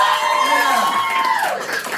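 Audience cheering and applause at a live matinee solo violin show, a loud crowd roar with whoops and shouts swelling over two seconds, a voice's tone sweeping through the noise.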